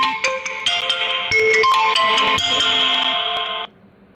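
Phone ringtone playing a bright, busy electronic melody of several notes, loud and close, running for about three and a half seconds before it cuts off abruptly.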